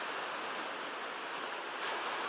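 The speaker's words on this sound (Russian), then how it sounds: "Такие волны очень тихие, тихие, спокойное море, совсем спокойное." Quiet waves lap on a calm winter sea at Svetlogorsk, a soft, steady hiss of surf with no distinct breaks, faint and distant and with no voices.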